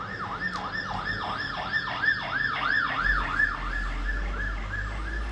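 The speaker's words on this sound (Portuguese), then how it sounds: "tá passando uma ambulância aqui agora" An ambulance siren wails in a steady rising and falling cycle as it passes along a street, loud and continuous, with a low rumble of traffic joining partway through.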